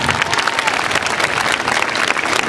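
Dense applause from a school audience at an award ceremony fills the whole stretch, steady and loud with a faint murmur of voices beneath.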